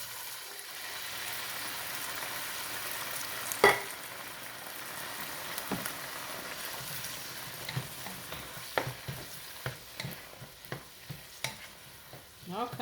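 Diced tomatoes fry with onions in a hot pan, giving a soft, continuous sizzle broken by a stream of sharp, irregular clacks from stirring that grows busier toward the end.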